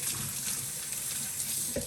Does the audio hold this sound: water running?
yes